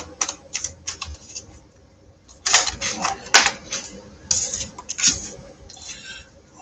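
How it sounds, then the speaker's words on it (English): Crisp papery rustles and soft slaps of tarot cards being shuffled in short bursts, close by, with brief quiet gaps between handfuls. "If I can shuffle."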